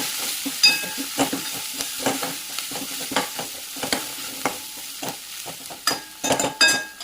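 Chili powder, garam masala and coriander-cumin powder being stirred in a hot pan, with repeated sharp scraping and clinking strokes of a spoon over a low sizzle, close and uneven in rhythm.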